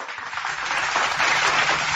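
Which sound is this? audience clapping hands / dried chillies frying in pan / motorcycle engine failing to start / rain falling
audience clapping hands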